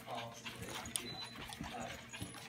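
Crazy little puppies whimper and yip in faint, brief bursts, close by and fairly quiet, with a person's voice heard softly between the cries.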